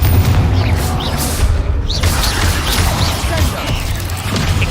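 A Bombarda blasting spell goes off in the Hogwarts Legacy video game: a loud, booming explosion with crashing debris over a dense, noisy game soundscape that stays steady for several seconds.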